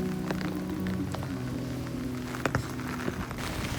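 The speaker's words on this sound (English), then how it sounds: "Okay, let's go face the rain." Steady outdoor rain patters on surfaces in a continuous hiss, close and moderately loud, with a few sharper drips and knocks standing out near the end.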